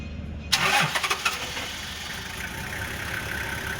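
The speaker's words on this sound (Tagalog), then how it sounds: "Start the engine, start the engine." A Toyota Land Cruiser engine cranks and fires at close range, a burst of starter noise and a few uneven revs settling into a steady idle.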